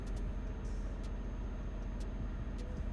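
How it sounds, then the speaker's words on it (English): Heavy truck engine in Euro Truck Simulator 2 rumbling steadily in low gear, a dense continuous low drone with a few faint brief hisses on top, no talk. "The low, awesome rumble of the engine."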